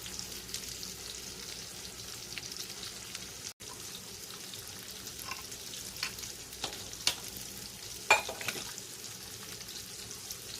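Swiss steak fries in a covered skillet, giving a low, steady sizzle with scattered crackles and a few sharper pops, mostly faint, with a brief dropout early on.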